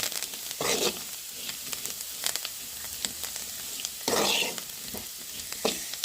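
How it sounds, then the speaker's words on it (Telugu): Beetroot pieces fry on low flame with chili powder and coriander powder, making a soft, steady sizzle. Bursts of stirring and scraping come at irregular intervals. No one speaks. "కొంచెం లో ఫ్లేమ్లో పెట్టుకొని ఒక ఐదు నిమిషాల పాటు ఇంకా ఫ్రై చేస్తూ ఉండాలి ఇలా"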